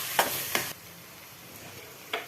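A close, soft sizzle of ginger garlic paste frying in a pan, with a few short scraping stirs at the start and one more near the end.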